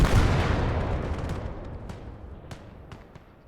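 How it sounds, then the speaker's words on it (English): Mortar fire in Gates of Hell: Ostfront, opening with a heavy loud blast that rumbles away, followed by scattered distant gunshots cracking faintly over the fading battle. "that mortar is going to do some big damage to us"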